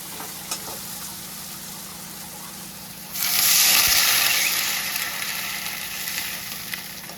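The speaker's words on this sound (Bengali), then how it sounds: "এই বাটি দিয়ে এক বাটি আমি জল দিলাম টকবকিয়ে ফুটে গেছে" Water poured onto spice paste frying in oil in a pan for chanar kofta curry, bursting into a loud, sustained sizzling hiss that settles into steady bubbling, with no talk.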